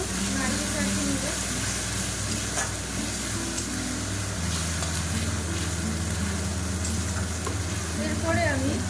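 Onion paste fries in a pan for chicken curry, a loud, steady sizzle with repeated scraping and stirring of a spoon against the pan, up close and without speech over it.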